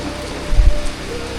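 Rain falls in a steady, close broadband hiss, with a brief low thump rising midway before it settles back into the even patter.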